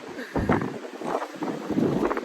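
Strong storm wind buffets the microphone in uneven gusts, loud rushing bursts rising and falling through a short stretch outdoors in cold weather.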